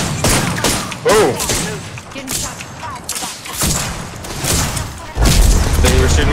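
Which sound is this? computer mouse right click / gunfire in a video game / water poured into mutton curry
gunfire in a video game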